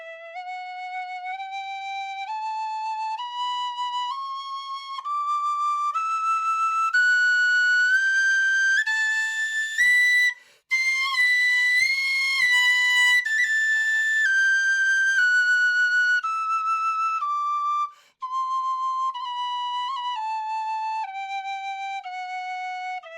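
High D tin whistle playing a scale, clear pure notes stepping up two octaves and back down, steady and close with a couple of short breath gaps.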